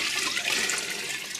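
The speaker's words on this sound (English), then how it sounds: "Now we have to add water." Water from a pitcher pours steadily into a pot on a stovetop while making pasta fagioli, a continuous close splashing rush with no talking over it.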